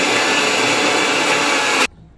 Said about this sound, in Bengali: এবার ডালটাকে ভালো করে পিষে নেব।